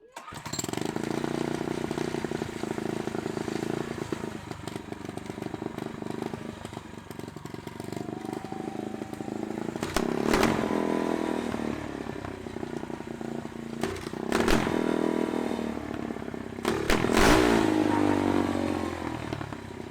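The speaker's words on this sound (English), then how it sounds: "that was with the loud exhausts, and you can see the maximum it hit was 115 decibels" A Pro-Kart engine with loud exhausts idles, then revs hard in several sharp bursts, a raspy two-stroke snarl swelling and falling close by during a noise test.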